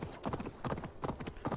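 A horse gallops in the video game Assassin's Creed Valhalla, its hooves drumming in quick repeated clip-clop bursts, close and fairly soft, with no speech.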